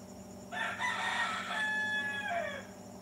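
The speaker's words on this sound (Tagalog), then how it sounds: "Gumaganyan talaga yung manok. Timer na yan. Alarm." A rooster crows once, a long, strained cock-a-doodle-doo that trails off downward, heard from a moderate distance over a steady background hum.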